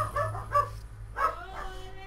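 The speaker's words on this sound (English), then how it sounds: "If you hear my dogs, I apologize." A few distant dog barks come in quick bursts, with a short pause before another bark, against a quiet indoor background.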